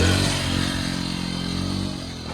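A 100cc motorcycle in first gear, braking after a long wheelie, its low engine drone steady and fairly loud, then easing off near the end, with no voices.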